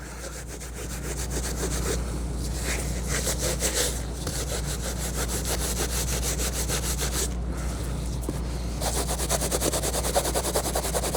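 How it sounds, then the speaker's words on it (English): A vinyl shoe being scuffed by hand to take off its shine, a continuous rough rubbing and scraping in quick back-and-forth strokes, close and fairly loud, with brief pauses and no talk. "And scuff it. Get all the shininess off of it."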